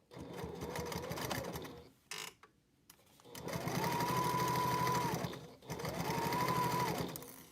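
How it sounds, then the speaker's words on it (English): A sewing machine runs through fabric for a packing cube in two steady, humming bursts of stitching, each preceded by shorter starts and stops. "I'm not going to sew right to the edge."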